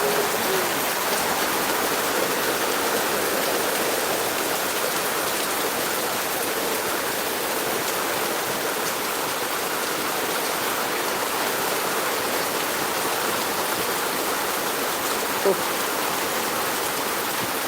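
Heavy March rain pouring down, a dense, even hiss of steady downpour that stays constant and close throughout.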